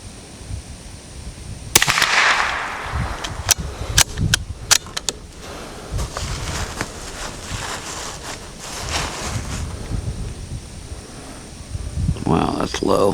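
Five sharp .22 rimfire rifle shots crack out at irregular intervals close by, each a brief loud impulse, with faint handling noise and outdoor background between them.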